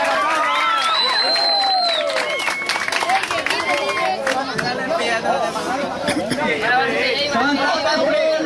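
Festive crowd at the coronation of a carnival Ugly King, applauding and chattering loudly and continuously, with voices and shouts mixed into the steady clapping wash.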